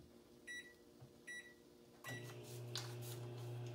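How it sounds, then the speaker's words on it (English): A microwave oven reheating a sourdough waffle hums steadily after a few short beeps, its low motor drone continuing with faint rattling, close by and fairly quiet. "A few minutes in the microwave"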